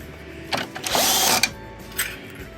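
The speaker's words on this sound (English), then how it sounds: "put my 3 screws back in here" Screws being driven back into a Dyson DC07 upright vacuum during a brush roll clutch repair: a close, loud whirring burst lasting about half a second with shorter grinding bits on either side.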